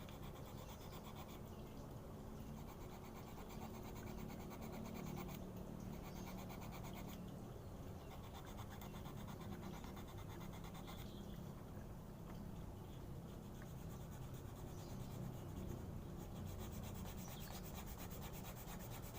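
Steady rubbing and sanding of a handmade Sundanese bamboo flute, a continuous scratchy abrasive sound with slight rhythmic strokes, close and fairly quiet, no talking.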